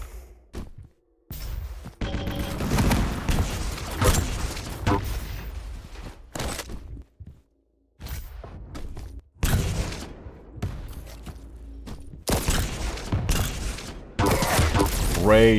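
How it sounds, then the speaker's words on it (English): Rocket blasts and railgun shots go off in a Quake Champions duel match. They come as repeated sharp bursts and booms separated by brief silent gaps, and a commentator talks between and over them. "Great rockets, but Breakage's railgun is just not giving up."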